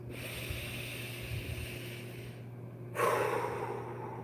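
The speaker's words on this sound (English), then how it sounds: "Take a few more deep breaths." Slow, deep breathing close to the microphone, a long hissing inhale or exhale followed by a louder breath over a steady low hum.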